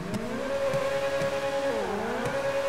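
A Ferrari engine in GTA 5 roars steadily at high revs inside a tunnel, pitch dipping briefly as if shifting gear, sustained and loud with no talking.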